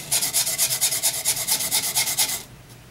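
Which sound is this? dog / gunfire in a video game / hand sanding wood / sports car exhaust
hand sanding wood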